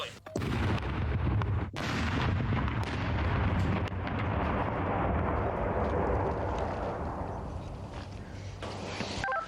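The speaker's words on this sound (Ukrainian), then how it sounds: "знищення вибухонебезпечного предмету буде проводитися контрольованим підривом, а саме електричним способом" A loud controlled electric detonation of explosive ordnance by sappers in Ukraine booms at the start, with a sharp crack shortly after, followed by a long rumbling roar of debris and echo that slowly fades.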